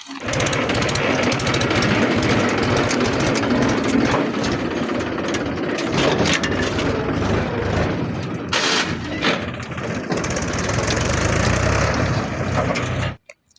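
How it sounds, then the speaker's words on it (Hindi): A loud tractor engine rumbles steadily throughout, with mechanical clatter and a brief dip near the end before it cuts off. "ट्रैक्टर को अच्छे से लेके जाइए।"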